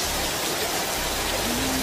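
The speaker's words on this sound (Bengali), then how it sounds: "আরো মুসলধারে নামলো বৃষ্টি।" Heavy rain pours down in a steady, dense hiss during a tour in Krabi, Thailand, a constant close wash of falling water with no talking.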